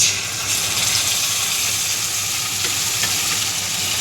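Spices go into hot oil for a soybean and potato kosha, giving a loud, dense, continuous sizzle close by with a faint low hum underneath.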